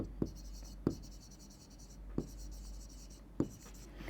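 Chalk or marker strokes on a board, four distinct taps and scratches spaced irregularly, faint and close over a low steady hum.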